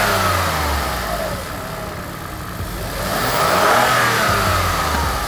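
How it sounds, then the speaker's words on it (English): A repaired Land Rover Range Rover engine revved while parked, a loud, steady engine drone that dips briefly, then swells into a stronger rev before easing, with no talk. "Can you try revving so we can hear the sound?"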